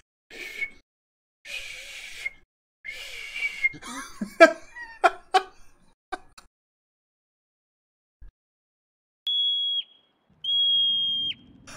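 A few short tonal whistles near the end, clean and sustained, coming after bursts of laughter and chatter earlier on, with silent gaps between sounds.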